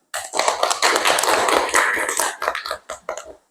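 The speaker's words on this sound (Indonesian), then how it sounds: "Tepuk tangan dulu." Group of children clapping their hands in a classroom during an ice-breaking activity, a quick burst of sharp, rhythmic claps that slows into a few separate claps at the end.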